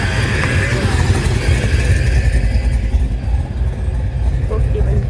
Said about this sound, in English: these cars sound absolutely amazing.